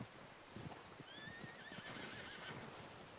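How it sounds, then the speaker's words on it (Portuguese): A horse in Red Dead Redemption 2 whinnies in a long, wavering neigh while hooves clip-clop steadily underneath, with a faint wash of ambient noise throughout. "Eu tava escutando ele galopando, mas não tava vendo de onde ele estava."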